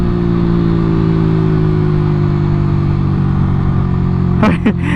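Yamaha MT-15 motorcycle fitted with a 62mm upgrade and a racing exhaust, its engine held at a loud, steady high rev for several seconds before a brief blip at the end.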